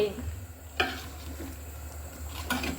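Shrimp and mixed vegetables (snake gourd, ridge gourd, sponge gourd, pointed gourd) being stirred in a pan, with a soft continuous sizzle and two brief spoon scrapes against the pan.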